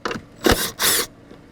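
A ratchet with a 10 mm socket backs out tail light bolts on a 2013 Subaru Outback, giving two short bursts of clicking close up, separated by brief pauses.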